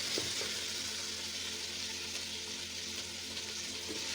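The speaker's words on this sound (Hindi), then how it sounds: "अब इसमें डाल दूँगी गोश्त।" Pieces of mutton fry with browned onions in a pot, a dense, even sizzle that holds steady and fairly close from start to finish, with no one speaking.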